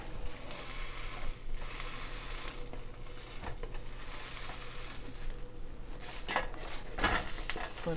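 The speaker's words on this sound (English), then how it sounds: "we're just toasting the bread on both sides. Make sure they get buttery" Bread toasting in butter in a hot pan for a shrimp po'boy, a steady close sizzle with scraping and shuffling as the slices are pressed and moved, occasional louder scrapes.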